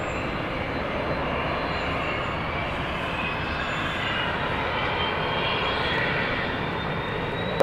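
A Boeing 737-700 airliner takes off from runway 31 right at Dallas Love Field, a loud, steady broadband jet roar filling the whole stretch without letup, with no voices over it.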